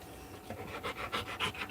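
An older dog panting inside a truck, rapid rhythmic breathy huffs growing steadier and louder over under two seconds, close by and with no one speaking.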